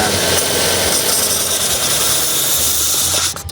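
A Mazda 6 engine runs with a loud, steady, hissing roar close by. The noise drops away and breaks up in the final moment.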